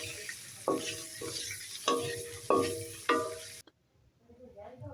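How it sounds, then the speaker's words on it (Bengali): Quail eggs sizzling in oil in a kadai, a crackling fry broken by four sharp knocks and scrapes of a spatula, then cut off abruptly into near silence with faint murmurs. "এই তো ডিমগুলো দিয়ে দিলাম সব একসাথে, একটু লাল করে ভেজে নিচ্ছি"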